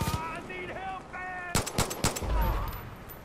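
Several sharp, loud gunshots in quick succession in the video game Far Cry 5, following tonal game music and effects, with low rumble after.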